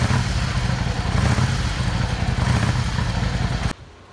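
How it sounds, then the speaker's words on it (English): A Yamaha Star 650 motorcycle on its original exhaust pipes runs close and loud with a rough, sputtering, blatty engine note and repeated revs, cutting abruptly near the end. "These are the original pipes of the Mission, so they make that farting sound."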